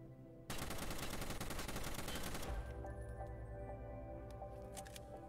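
An M1A rifle fired rapidly with a macro in Escape From Tarkov unleashes a loud, fast stream of evenly spaced shots for about two seconds, then stops abruptly, leaving faint ringing tail and scattered quiet clicks.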